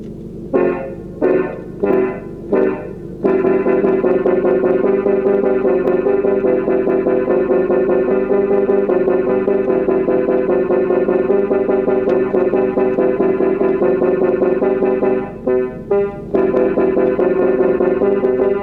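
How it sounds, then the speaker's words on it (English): A sustained brassy ensemble chord swells and holds, opening with several short staccato stabs and briefly pausing for a few quick hits near the end. "I like this sound a lot. This is the brass ensemble."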